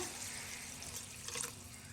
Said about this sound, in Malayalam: ഇതിലേക്ക് നമുക്ക് കുറച്ച് വെള്ളം കൂടി ചേർത്ത് കൊടുക്കാം.